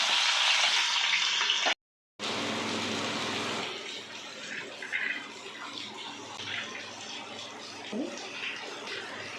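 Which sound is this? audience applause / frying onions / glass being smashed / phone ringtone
frying onions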